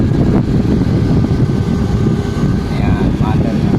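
A blower fan runs in a solar-powered electronics repair workshop, giving a steady loud broadband whir with a low drone and no breaks throughout.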